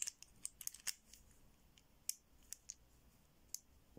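Wheels on a combination lock for the visually impaired give off sharp little clicks, faint and close, scattered irregularly with a few quick clusters and pauses between them, and nobody speaking.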